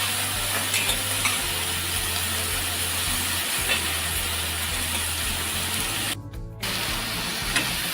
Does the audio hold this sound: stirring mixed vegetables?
yes